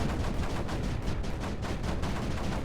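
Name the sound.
mortars landing in the video game Creeper World 4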